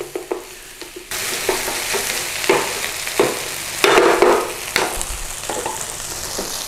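Tomato puree is stirred and fried in a pan for coq au vin, a loud hissing sizzle that swells suddenly after a quieter start, with repeated scraping stirs and no speech.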